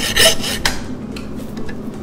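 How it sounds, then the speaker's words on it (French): A hand saw rasps through meat at a butcher's shop, with a few close, rough back-and-forth strokes, the first stroke the loudest and the rest steadier and softer. "Tu vas prendre la scie. Et on va scier comme ça."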